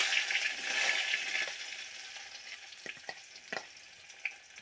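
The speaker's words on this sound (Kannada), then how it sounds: "ಈಗ ಉಳ್ಳಾಗಡ್ಡಿ ಹಾಕ್ಲಕತ್ತೀನಿ ನೋಡ್ರಿ." Onion hitting hot oil already seasoned with cumin and mustard seeds: a loud, close sizzle that gradually settles into a softer crackle, broken by a few sharp clinks and scrapes of stirring.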